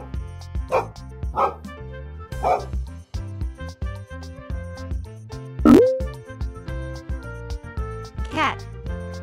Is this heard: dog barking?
yes